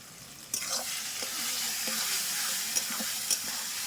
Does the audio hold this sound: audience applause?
no